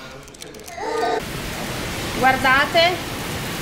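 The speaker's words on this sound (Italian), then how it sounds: "piove tantissimo, tutto di traverso perché c'è vento" Heavy wind-driven rain lashing outside a van, a steady broad hiss that carries on under a voice speaking briefly.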